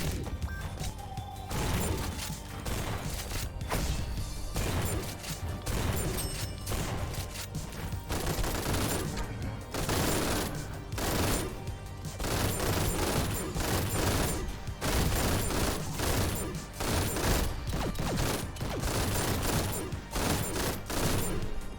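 Rapid gunfire from a first-person shooter game, GTTOD: Get To The Orange Door, with dense bursts of shots and impacts repeating throughout, loud and steady with brief gaps between volleys.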